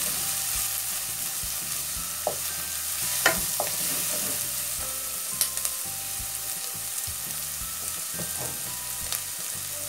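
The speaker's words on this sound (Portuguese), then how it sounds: "Vou deixar dar uma refogadinha aqui. Vou acrescentar o alho trituradinho" Crushed garlic sizzles in hot oil in a pan while being stirred, a steady frying hiss close by with scattered scraping clicks of the utensil, during preparation of a vegetable broth.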